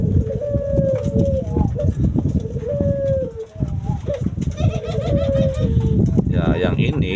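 Collared doves in breeding cages coo repeatedly, their soft rolling calls close and fairly loud against a busy background of other birds and farm noise.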